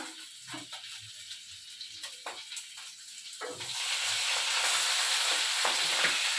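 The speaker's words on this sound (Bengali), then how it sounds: "লঙ্কা দিলে না ভীষণ ফোটে বাবা দূরে থাকতে হবে" Chilies dropped into hot oil in a kadai for a fish and eggplant curry, a soft sizzle with a few spoon clinks that swells midway into a loud, steady spitting hiss.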